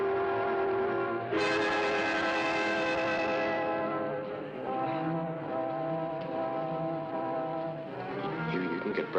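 A passenger train runs steadily with a long, loud horn blast near the start, continuing rail rumble and tonal whistle-like hum throughout.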